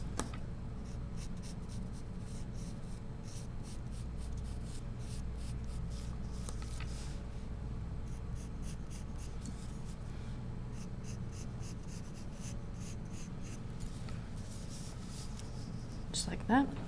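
White charcoal scratches steadily across paper in short repeated strokes while a circle is sketched, close and soft over a faint room hum, with a brief louder scrape at the end.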